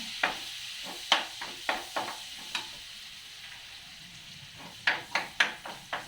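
Onion and garlic hit hot oil in a pan, giving a faint steady sizzle. Sharp scrapes and clinks from a stirring utensil come in two clusters, close and crisp, with no talking.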